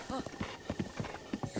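A swift horse trots in Zelda: Breath of the Wild with rhythmic clip-clop hoofbeats, repeating steadily and close, mixed with game sounds and a soft voice.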